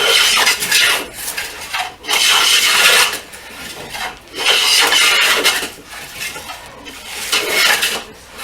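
Hand plane or scraper pulling long shavings from an old piece of pine, giving loud rasping strokes in a steady rhythm of about five long passes with short pauses between, close up and with no talking.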